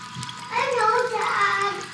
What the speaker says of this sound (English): I fill it with coconut water